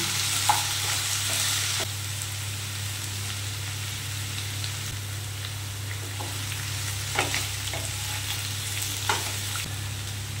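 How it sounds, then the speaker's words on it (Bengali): Potatoes fry in a pan with a continuous sizzle. Scraping stirs and light taps are heard throughout over a low steady hum, and no one speaks. "আমি কিন্তু বাড়িয়ে আলুটাকে ভাজা ভাজা করে নিচ্ছি"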